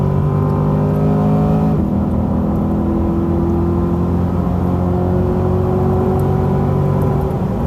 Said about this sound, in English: the Corvette does the 60 to 130 about second to a second and a half faster than the Supra